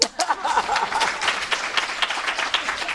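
Audience at an evening cocktails-and-conversation event applauding, a moderately loud round of clapping with a few louder individual claps, steady across three seconds.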